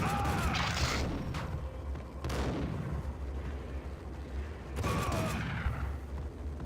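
Gunfire in the Max Payne video game, with several heavy, booming shots and blasts spaced over a few seconds against a dense, noisy game background.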